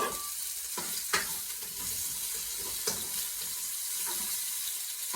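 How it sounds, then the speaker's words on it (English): Peppers and broccoli sizzle and crackle in olive oil for a garlic turkey stir fry, a steady close hiss broken by a few louder pops and stirring scrapes. "then we're just going to pop our peppers in and then your broccoli."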